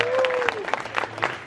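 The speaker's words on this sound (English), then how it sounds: "I just want to have another round of applause for our creators here." Brief scattered applause for the creators at a panel event, a few sharp claps from a small audience with a voice speaking over them.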